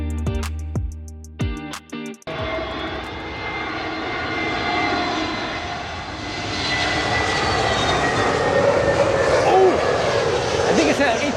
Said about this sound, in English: That's an A380 coming in right now.